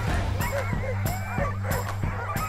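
Several Alaskan husky sled dogs bark and yip repeatedly in an excited, overlapping chorus, close by, with a steady low rumble underneath.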